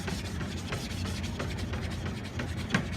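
A 1000-grit knife sharpening stone being flattened, with a steady, continuous rubbing and scraping of stone on stone, close and even in rhythm, with no talking.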